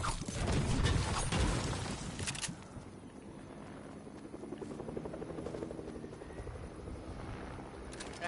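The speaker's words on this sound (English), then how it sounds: "I swear there's a helicopter over here." A helicopter in the video game Fortnite flies nearby, a steady rotor drone running the whole time, louder and busier in the opening seconds with other game noise, then settling into a continuous mid-distance hum.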